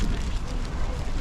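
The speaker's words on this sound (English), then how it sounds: "Oh, it's so windy." Wind gusting into the microphone outdoors in Georgia, a steady low rumbling buffet that stays loud and close for the whole moment, with no clear voice over it.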